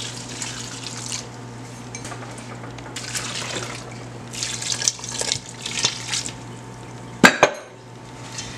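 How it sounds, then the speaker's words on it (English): Water is added to a salted codfish cake mixture in a bowl, heard as a low running pour with light scraping and clinks of utensils, ending in a sharp clatter. "So now I'm gonna add some water to this."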